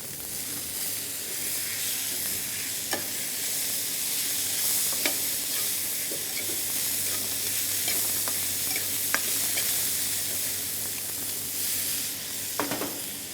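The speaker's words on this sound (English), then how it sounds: "Let's add some chopped tomatoes into it." Chopped tomatoes frying with softened onions in a hotel kitchen pan for bhendi do pyaza, a steady close sizzle with occasional sharp stirring scrapes and taps, no talking.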